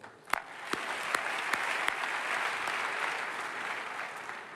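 An audience applauds after the president's speech at the 2022 Concours Général awards ceremony, a dense, sustained clapping that holds steady throughout with a few sharper individual claps standing out.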